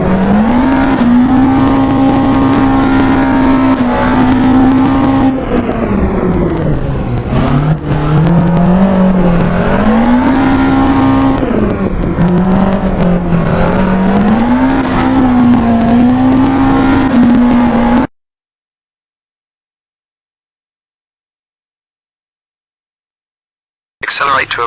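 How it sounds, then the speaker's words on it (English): A rally car in Richard Burns Rally accelerates and power slides, its engine revving up and down through gear changes with loud, wavering pitch, then cuts to silence near the end before briefly returning. "Accelerate to about 60 in second gear. When you reach the blue cones, initiate the power slide."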